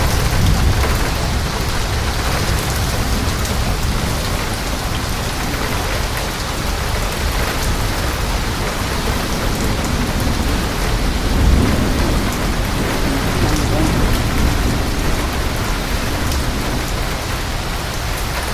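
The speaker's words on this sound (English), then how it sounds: "Rain just keeps pouring in." Heavy rain from a severe thunderstorm pours down in a constant dense roar, with a low rumble of thunder rolling in partway through, in St. Louis, Missouri.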